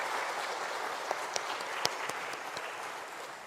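Congregation at Wondong Church, a Korean church, breaks into steady applause for the pastor during its Sunday afternoon praise service, a dense continuous clatter of many hands with a few sharper claps standing out.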